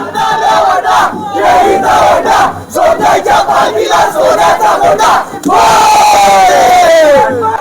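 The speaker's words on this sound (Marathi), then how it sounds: "छान हा जल्लोष आपल्याला पाहायला मिळतोय" A loud crowd cheers and shouts together at a Dhulwad festival celebration in Shrivardhan, with rising whoops and chanting in bursts, one short dip near the middle and a louder, sustained roar toward the end.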